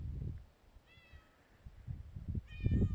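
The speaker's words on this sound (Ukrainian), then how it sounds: "Кіт!" A cat meows twice outdoors in deep winter snow, short and high-pitched, the second slightly longer, over soft rustling and crunching footsteps nearby.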